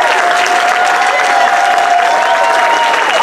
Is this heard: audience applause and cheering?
yes